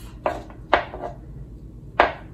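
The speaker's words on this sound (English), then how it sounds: "And then I'm just gonna cut those also in half." A knife slices apple matchsticks on a cutting board with three crisp, close chops, unevenly spaced with short pauses between them and no voices.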